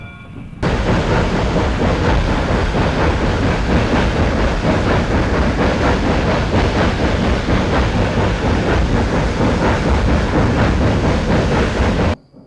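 A loud, continuous rumble and roar of a passing steam locomotive hauling a freight train on the Burlington Route fills the clip, dense and steady from start to sudden end, with no voices.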